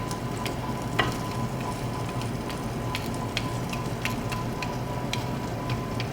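A cheese sandwich fries in butter in a pan for breakfast, giving a steady close sizzle with scattered small pops and crackles, with no voices over it.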